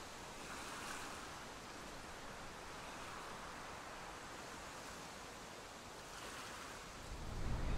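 Sea waves break on the beach at Bournemouth, a steady washing surf that swells and eases at a moderate distance, faint and soft with no voices over it.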